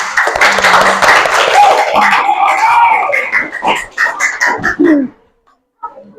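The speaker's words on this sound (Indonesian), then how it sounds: "Boleh kasih tepuk tangan untuk kelompok 2." Classroom students clapping together for a group, a loud burst of dense applause that thins into scattered claps and stops, with some voices mixed in.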